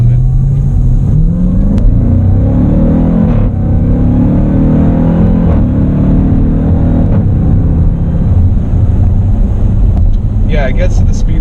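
A Jeep Trackhawk accelerates hard on an open road up to a 60 mph speed limit, heard from inside the cabin as a loud, continuous engine roar rising in pitch, with wind and road rumble underneath.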